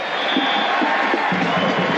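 A big crowd roars at an Oakland Invaders vs Birmingham Stallions USFL football game in a stadium, a steady, dense wash of cheering and shouting that holds loud throughout.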